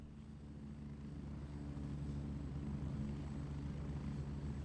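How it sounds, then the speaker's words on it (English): A helicopter in Gray Zone Warfare drones steadily with a dense, low rotor and engine rumble that swells slightly and then holds loud and constant, with no talking. "So that's a quick way to use your food items while you're traveling in the helicopter"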